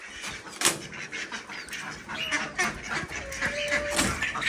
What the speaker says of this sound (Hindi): मुर्गी कह रही है मैंने भी खाना है।